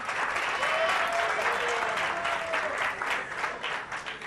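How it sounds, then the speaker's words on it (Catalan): Audience at the Pica lletres Vallès Occidental quiz show applauds a school team from Institut Forat del Vent, steady full clapping with a faint voice over it, tapering slightly toward the end. "Un aplaudiment per ells"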